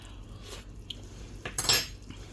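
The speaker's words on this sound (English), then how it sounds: "I have to get a clean spoon because I might give some of the leftovers away." Metal cutlery and dishes clink briefly in a home kitchen while a clean spoon is fetched, a few light knocks ending in one sharper, brighter clatter near the end.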